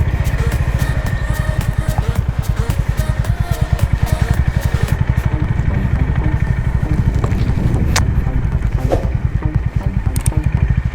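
A motorcycle engine runs steadily and close, throbbing with a rapid even rhythm like idling as the bike is being parked near a beach.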